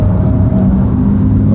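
A McLaren 720S sports car on a race track gives off a loud, steady engine drone and rumble, heard close and continuous with no talk over it.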